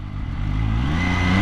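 An MV Agusta Brutale 950 prototype motorcycle exhaust drones loudly with a deep, rising engine note as the rider accelerates, heavy rumble throughout with no talking.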